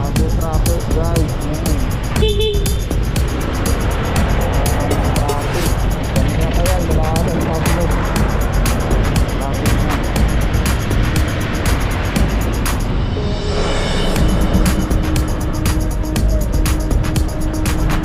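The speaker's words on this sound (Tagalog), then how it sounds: "Traffic guys." Road traffic rumbles continuously, with engines droning and vehicles passing close by, loud throughout while people talk over it.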